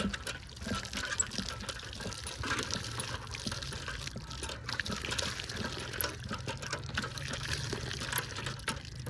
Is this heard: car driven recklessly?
no